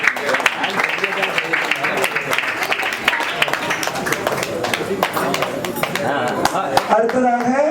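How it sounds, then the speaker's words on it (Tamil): An audience at a stage ceremony claps continuously in a dense, fairly loud patter that holds steady throughout. Voices and some musical tones mix in toward the end. "கைத்தட்டுங்கடி."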